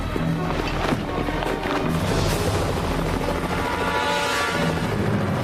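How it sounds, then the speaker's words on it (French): Steady, loud rotor-like rumble and whir of a helicopter, continuous throughout with dense low-frequency throb and broadband noise, no speech. "L'hélicoptère va arriver!"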